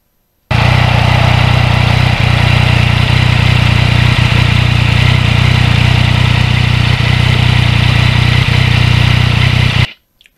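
A 2020 Yamaha MT-09 cross-plane triple engine runs steadily and loudly throughout at a constant idle-like pitch, with a broad rushing noise layered over it, cutting off near the end.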